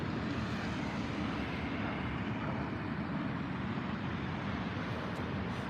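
An Airbus A380 departing Heathrow, a continuous broad distant jet roar held at an even level throughout, with no voices.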